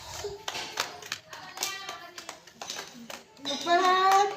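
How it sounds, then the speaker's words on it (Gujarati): Young kindergarten children clap their hands in a classroom, a run of quick, uneven claps mixed with kids' voices and someone talking over them. "ચાલો તાળી પાડો."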